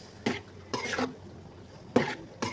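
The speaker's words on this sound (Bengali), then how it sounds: "এটাকে ভালোভাবে মিশিয়ে নিয়ে তারপরে বাকিটুকু দেব" Semolina and crushed nuts being stirred into pumpkin halwa, with four distinct scraping strokes of a spoon against the pan at uneven intervals, fairly quiet and close, with no voice.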